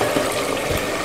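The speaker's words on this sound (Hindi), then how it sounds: "और अब इसमें हम ऐड करेंगे पानी" Water being poured into a pressure cooker holding fried rice and spices for chicken tahari: a brief, loud, steady rushing splash, close and alone.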